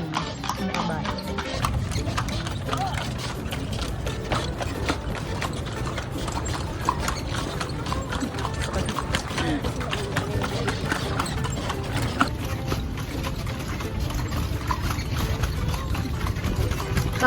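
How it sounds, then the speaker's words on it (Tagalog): A horse pulling a calesa clip-clops at a steady walking rhythm on the road, hooves close under continuous engine rumble and people talking. "Kailangan marinig yung yabag ng ng kabayo."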